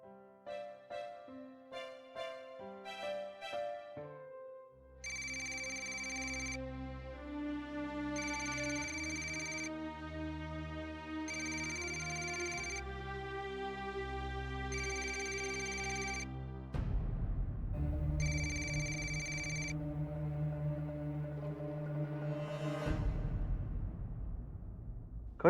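A phone ringtone in a Marathi TV serial plays as a melodic, repeating tune over music, then stops abruptly when the call is cut off, followed by a louder, fuller passage of music.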